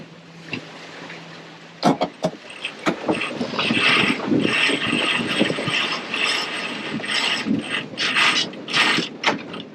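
Sailboat winches ratchet and pulleys run during a tack, with sharp clicks, bursts of rapid ratcheting and line noise, close and loud, under wind and water.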